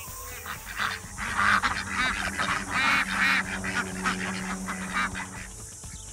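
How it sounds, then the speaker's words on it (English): Ducks kept on a homestead call out in a loud, busy chorus of honking quacks that carries on steadily for several seconds, close to the listener, with no talking. "So here's all the ducks behind me there."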